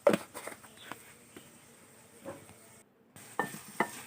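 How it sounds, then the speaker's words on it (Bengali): Chicken bones with turmeric and salt frying in oil, a soft sizzle under intermittent clinks and scrapes of stirring, fairly quiet and close, with a brief silent gap near the end. "কিছুক্ষণ আমি তেলে ভেজে নিব এগুলোকে,"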